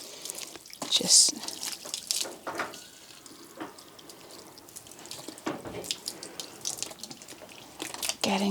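Water running and splashing as bubbles are rinsed off a horse's coat during an outdoor bath in the sun, a soft steady trickle with brief louder splashes and drips, close and gentle with faint whispering.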